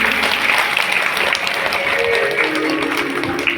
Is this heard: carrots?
no